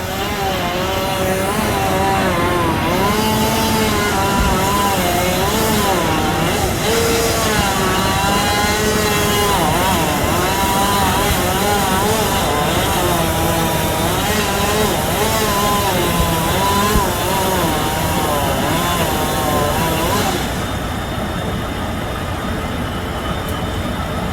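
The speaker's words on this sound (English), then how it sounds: "He's got his chainsaw. He's gonna cut that limb off." A chainsaw roars steadily for a long stretch, its engine pitch wavering up and down as it cuts through a tree limb during tree removal, loud and close.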